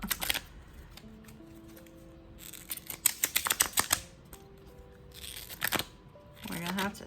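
Sticky cards from the Les Vampires Oracle deck being pulled apart, giving crisp papery clicks and tearing rasps in bursts, with a thin creaking squeak between them and a voice speaking briefly near the end.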